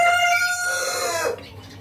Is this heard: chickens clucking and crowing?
yes